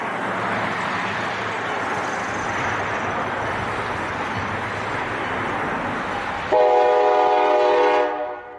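A moving train rumbles past over snowy tracks, a loud steady roar that gives way near the end to a long, strong blast of the horn, which cuts off abruptly.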